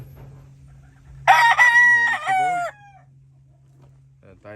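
A Hatch Gray gamefowl rooster in a backyard breeding yard lets out one loud, close crow lasting about a second and a half, over a steady low hum, with a faint second bird sound near the end.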